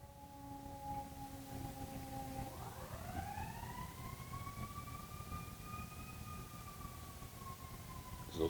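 An emergency siren wails in the distance, a steady tone that sweeps upward and then holds a long rising-falling wail, faint under low room noise with no speech.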